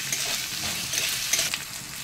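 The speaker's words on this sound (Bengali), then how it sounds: "এখন একটু নাড়াচাড়া করে ভালো করে ভেজে নিচ্ছি" Sliced onions fry in a pan until lightly browned while a spatula stirs them, a close sizzle broken by scraping strokes and small clinks at an unhurried pace, with no voices.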